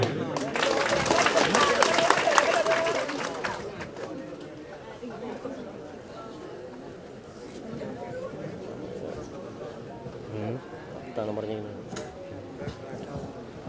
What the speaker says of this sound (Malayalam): നിറഞ്ഞ കയ്യടി